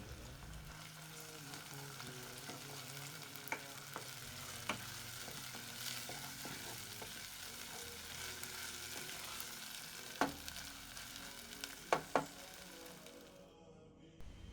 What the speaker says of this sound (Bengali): কিছুক্ষণ নাড়াচাড়া করার পর আমি এখানে আদা রসুন বাটা দিয়ে নিব আদা রসুন বাটা দেওয়ার পর কিছুক্ষণ নাড়াচাড়া করতে থাকবো